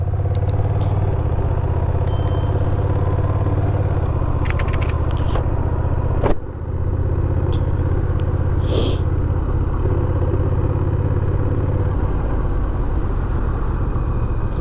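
Honda Rebel 1100 DCT motorcycle cruising on a chilly morning, a steady low engine drone with wind noise and a brief thump midway, continuous and close.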